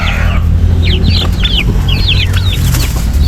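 Rhode Island Red hens in a coop give a run of short clucks and calls, fairly close and loud, over a steady low rumble of background noise.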